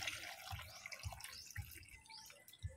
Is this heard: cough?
no